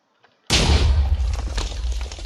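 Spiral TNT detonating in the Minecraft TooMuchTNT mod: a sudden loud blast after near silence, with heavy low rumble and crackling debris that stays loud and slowly decays.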